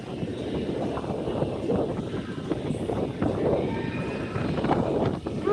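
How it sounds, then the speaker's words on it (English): Gusty wind buffets a microphone outdoors at Universal Studios, a steady low rumble with rising and falling surges throughout, no talk. "Ooh, that wind."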